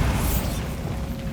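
A Bombarda blasting spell goes off in Hogwarts Legacy as a single loud, close explosion, a dense boom with heavy low rumble that fades slightly over a second.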